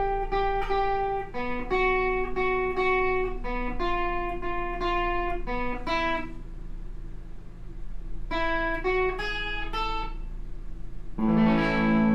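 Electric guitar plays a riff at a slow tempo, clean, clear single notes and a few chords in a rhythmic pattern, with a short pause and a final strummed chord, close and alone.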